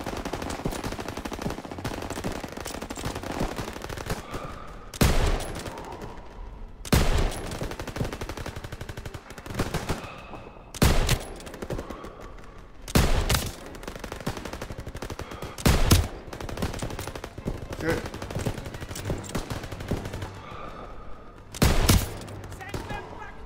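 Machine guns firing at troops holding a bridge, sustained bursts of rapid gunfire recurring every few seconds in loud clusters, with shouted voices in between.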